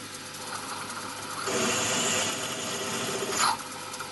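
A mini lathe hums while an 8.5mm drill grinds into metal, the rasping cut rising in loudness for a couple of seconds, with no talking.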